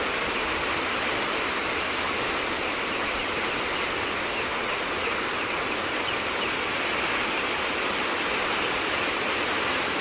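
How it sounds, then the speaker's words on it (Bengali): Heavy monsoon storm rain pours down without a break, a dense, loud, steady hiss with no voices. "প্রচুর জল হচ্ছে"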